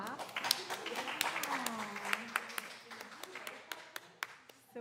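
Audience applause after a poem reading at a jazz-accompanied church service, a scattered, moderately loud patter of claps with a voice talking over it throughout.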